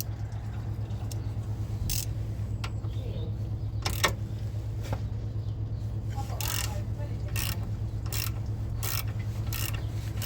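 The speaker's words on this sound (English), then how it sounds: "That's going to be a 16, deep socket, really nice fit there." A ratchet fitted with a 16 mm deep socket clicks in short bursts while working on a Peugeot 207's wheel bearing and drive shaft, sharp ticks over a steady low workshop hum.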